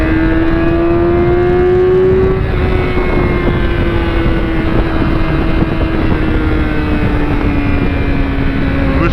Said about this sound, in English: And there seems to be quite a bit of traffic,